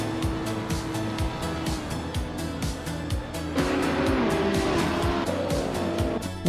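Aston Martin Vantage GT3 race cars in a racing video game, engines revving hard through rapid gear changes with rising and falling pitch, loud and continuous, with brief tire squeal over a busy pack of cars.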